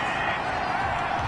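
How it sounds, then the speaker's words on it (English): Stadium crowd noise from a Madden football video game after a penalty flag, a dense steady roar of booing and murmuring that holds at an even level throughout, with no clear voices on top. "Well, the crowd doesn't like that."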